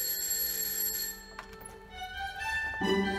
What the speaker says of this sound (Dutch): Shit, telefoon.